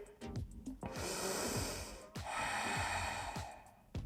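A yoga practitioner takes a strong, audible breath in while holding a hip-opening pose on a mat, a long airy inhale broken by a few short snorting breaths, close and loud with no talking.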